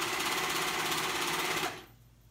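A sewing machine runs in one continuous, even burst while stitching a cuff onto a child's pajama leg, close and loud, then cuts off abruptly near the end.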